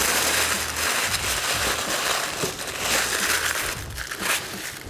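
Candles being wrapped in paper packaging for shipping make continuous close crinkling and rustling paper sounds, with brief crunches and no speech.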